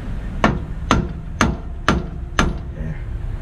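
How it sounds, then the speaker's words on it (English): Five hard hammer blows strike a U-joint on a Volvo truck during rotator tow work, evenly spaced about half a second apart, loud and close over steady background noise. "You gotta actually swing the shit out of that hammer though."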